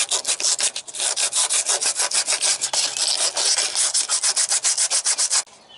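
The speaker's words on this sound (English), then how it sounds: "Yeah, see all that red? I'm getting a lot of rust off of that." Steady back-and-forth scraping strokes remove rust from the steel frame of a 1994 GMC Sonoma pickup, each rasping pass close and loud in an even rhythm, stopping near the end.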